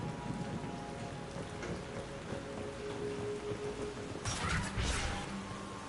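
Steady rain falls across a scene in the video game Mass Effect 2, a soft, continuous patter with a low distant rumble breaking in near the end.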